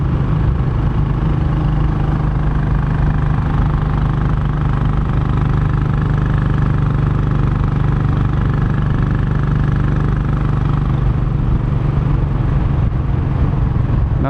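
A 2019 Royal Enfield Classic Chrome 500 motorcycle engine pulls steadily up a steep hill in fifth gear, a continuous loud low thumping drone with wind rush and no talking.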